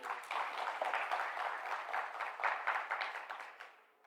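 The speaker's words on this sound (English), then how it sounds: "Let's give him another round of applause." An audience at a stakeholders conference claps in a sustained round of applause, dense and even, holding steady before fading away at the end.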